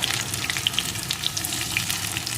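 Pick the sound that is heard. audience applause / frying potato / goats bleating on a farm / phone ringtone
frying potato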